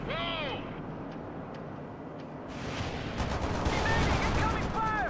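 Combat in the World in Conflict video game: bursts of gunfire and rumbling battle noise build louder over a steady din, with brief whistling and whining effects and radio-style voice chatter mixed in.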